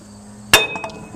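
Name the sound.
hammer whacking a part on a Case 800 tractor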